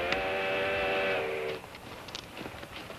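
A train's steam whistle blows a sustained, harmonic tone for about a second and a half from a 1955 western film, then cuts off, leaving faint rumble and scattered clanks behind.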